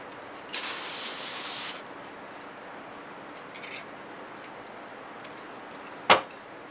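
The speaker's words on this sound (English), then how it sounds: "Silicone spray." Silicone spray hisses out for about a second, followed by a fainter short spritz and later a sharp click, all in a quiet room.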